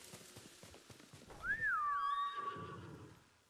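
A horse in the Ghost of Tsushima video game gives one loud rising-and-falling whinny, preceded by soft hoof clip-clops, with no talk over it.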